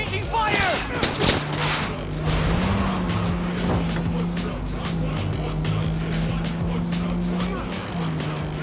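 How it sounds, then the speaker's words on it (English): A gunfight in Cyberpunk 2077 on PlayStation 5, with loud rapid gunfire bursts up front, then dense continuous shooting and a steady droning engine-like hum underneath. "Exchanging fire!"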